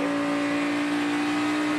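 NASCAR Sprint Cup stock car engine powering up at Indianapolis, a loud, steady, close roar with a strong sustained engine tone throughout and no voices.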